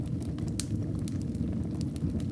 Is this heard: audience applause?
no